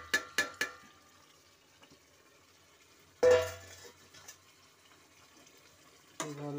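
Meat marinated in sour yogurt and turmeric is poured into a pan and stirred, giving a few close scraping and clattering bursts with a brief wet sizzle between quieter gaps.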